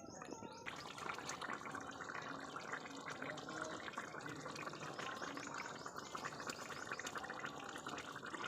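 Starchy water draining off cooked rice, a continuous gurgling, splashing pour of liquid close by, steady and fairly loud from start to finish with no speech.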